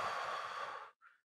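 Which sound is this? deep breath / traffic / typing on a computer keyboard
deep breath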